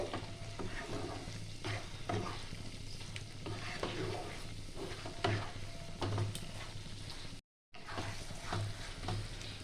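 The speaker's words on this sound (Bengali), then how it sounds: "চিকেনগুলো দিয়ে আমি একটু নাড়বো 1 মিনিটের মতো।" Chicken stirred in a frying pan for butter chicken: continuous soft sizzle with rhythmic scraping and knocks of the spoon, interrupted by one brief dropout to silence.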